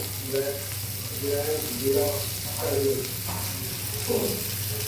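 Food fries in a pan in a home kitchen with a low, steady sizzle close by, while someone talks over it.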